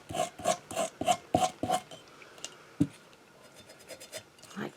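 A mason jar is sanded by hand with sandpaper in a quick series of about six close, rhythmic rasping strokes, followed by a single thump and a few softer, scattered scrapes.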